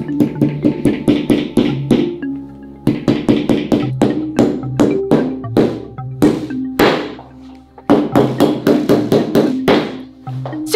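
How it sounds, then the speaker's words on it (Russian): A nail being driven with a hammer, a loud close series of rhythmic taps in quick bursts of strikes with short pauses between rounds and no talk over them. "Поэтому предлагаю тебе взять еще один гвоздь и забить его заново."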